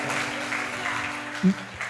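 A congregation in a church claps steadily, a dense, even patter of applause filling the room for a couple of seconds.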